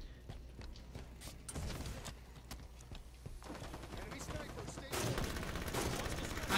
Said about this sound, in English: I hear grenades like going like crazy.